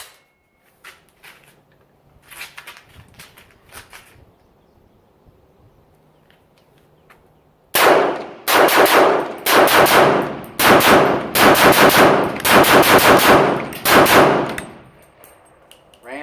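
A BCT 300 Blackout pistol with an EOTech sight is test-fired in a long rapid string of loud, close gunshots. A few scattered clanks come first, and the shots then run for several seconds.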